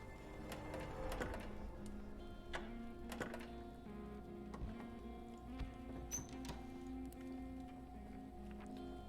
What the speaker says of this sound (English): Let's start using this lockpick first.